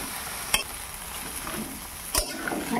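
Mixed vegetables and garlic tossed in a wok give off a soft, steady sizzle, with two quick clanks from a spatula against the pan.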